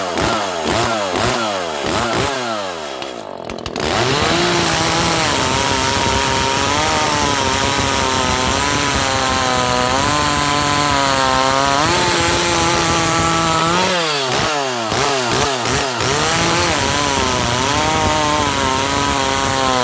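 An Echo CS400 chainsaw with a modified muffler, catalytic converter gutted, cuts through wood after warming up, loud and close, its engine rising and bogging under load with a brief lull before dropping back into a cut.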